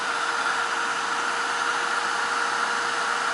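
A heat tool blows hot air over painted journal pages, making a steady, loud, unbroken whoosh that lasts throughout with no talking.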